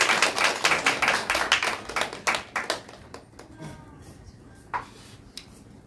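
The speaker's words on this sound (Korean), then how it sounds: "박수로 환영하겠습니다." A church audience breaks into quick, dense clapping to welcome pastor Choi Yong-nam, then thins after about three seconds into a few scattered, fading claps.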